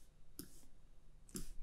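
Computer keyboard keys pressed for After Effects shortcuts, a quiet close-up click followed by a short double click about a second later.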